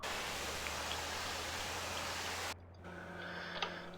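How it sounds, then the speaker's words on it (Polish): Steady rain falls in an autumn orchard farming video game, a constant soft hiss that cuts off sharply near the end and is followed by quieter ambience, with no talk. "Deszcz pada."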